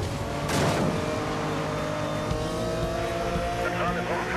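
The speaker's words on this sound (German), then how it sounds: "Ah, der Drift, der ging schon so ein bisschen in die Hose." A car drifting in the racing game Need For Speed Most Wanted, with a steady engine drone and a tire squeal swelling early, while someone talks over the driving noise.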